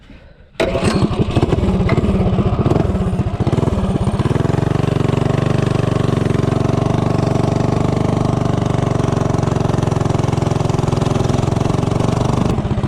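A Tillotson 212 engine with a 24mm flat slide carburetor and 3-inch intake roars to life abruptly after a quiet start. It revs hard with rapid throttle surges, then settles into a loud, sustained high-rpm drone close by.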